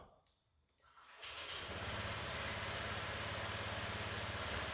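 A Honda Vario 125 scooter engine starts after a moment of quiet and settles into a steady, close, buzzing idle that continues to the end.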